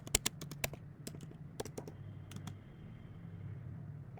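Computer keyboard keys clicked while typing Java code, a quick irregular burst of sharp taps early on followed by scattered single keystrokes, close and fairly quiet.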